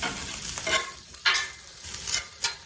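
Fried rice scraped, stirred and flipped across a flat-top Blackstone griddle, with a steady sizzle broken by several louder metal-spatula scrapes in an irregular rhythm, close and alone without talk.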